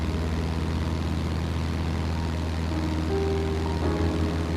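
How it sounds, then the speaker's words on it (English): A 1965 Champion Citabria airplane's engine drones steadily in flight, a loud, constant propeller hum heard from inside the cabin with no talking. "Flight time to Asheville in a 1965 Champion Citabria, about 1 hour 15 minutes."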